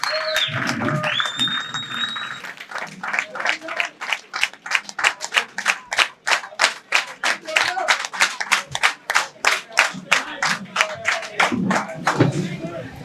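A crowd at a political coalition gathering claps to elect its leader by acclamation. The clapping is loud and close, first scattered and then settling into a strong rhythmic unison beat, with voices and whistles early on.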